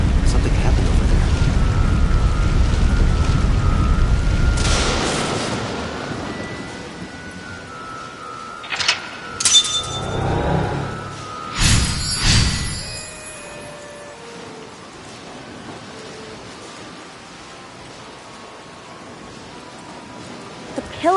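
Lightning striking a pillar in AI: The Somnium Files, beginning with a heavy rumble of rain and thunder that fades, then several sharp electrical cracks and bursts in quick succession, trailing into quiet ambience.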